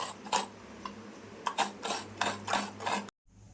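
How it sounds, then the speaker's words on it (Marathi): Half an onion and garlic cloves are rubbed across a grater in quick rasping strokes, about a dozen close scrapes in an uneven rhythm that stop abruptly near the end. "हां तर किसून घेते"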